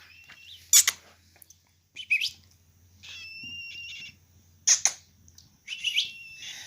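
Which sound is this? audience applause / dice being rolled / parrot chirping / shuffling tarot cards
parrot chirping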